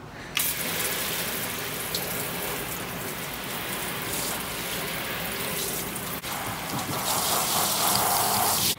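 Water trickles and splashes steadily out of a tilted rabbit cage during a cleanout, a continuous close, fairly quiet hiss with a slight change near the end.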